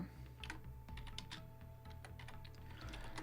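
Keys clatter on a computer keyboard while Python code is typed, a run of close, uneven clicks with a firmer Enter press, steady and alone with no talk.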